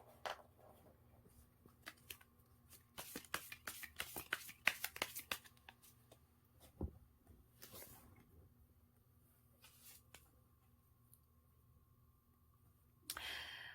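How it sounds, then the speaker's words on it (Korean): Tarot cards are shuffled and drawn by hand at close range during a reading: a quiet flurry of rapid papery riffles and flicks, then a few softer slides and taps, with no talking. "조언의 카드를 한번 뽑아보도록 하겠습니다."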